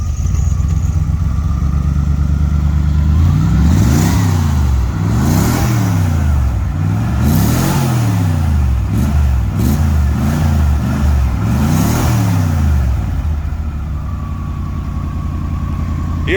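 A 1978 Dodge van engine revs loudly again and again in repeated rising-and-falling bursts over a steady idle, close by, with no talk.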